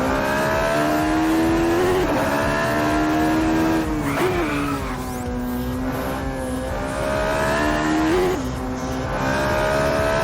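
A V8 race car at speed, heard from the passenger seat: a loud, sustained engine drone that climbs in pitch and dips sharply at each gear change, roughly every four seconds, with road and wind noise underneath.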